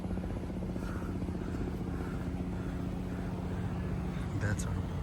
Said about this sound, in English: There's a little plane coming.